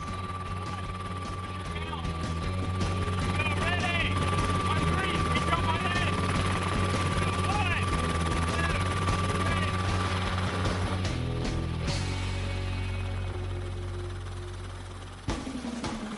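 Helicopter hovering and flying low over the sea off Costa Rica, a loud continuous rotor and engine drone with steady whine that dominates throughout and fades slightly toward the end.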